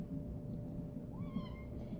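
A cat gives one soft, faint meow in a house over a steady low background hum.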